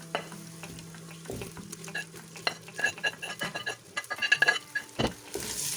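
Onion fries in a pan over a low flame with a soft sizzle while a spoon stirs and scrapes it, the scraping growing busier and more rhythmic toward the end, close by and with no speech.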